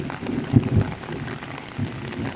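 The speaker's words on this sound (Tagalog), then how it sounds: "Tuloy talagang ulan to." Steady, soft rain patters down in the background, with a few faint bumps and rustles close by.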